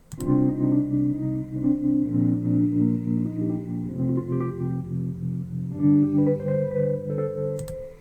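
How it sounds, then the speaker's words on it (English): An EZkeys software electric keyboard plays a short sequence of sustained chords and notes, shifting every couple of seconds, with no voices present. "if I wanted to use this particular electric keyboard, it then sounds like this"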